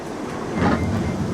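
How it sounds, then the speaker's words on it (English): A monorail at Alton Towers rumbles past, its steady roar swelling as it nears and then holding. "Here comes the monorail. Hey, there it goes."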